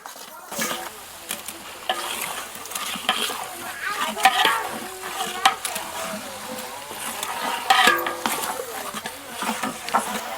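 Onions and green chillies being stirred and fried in a big pot for a 10 kg chicken curry, with steady sizzling and repeated scraping stirs throughout, close and fairly loud with no talk.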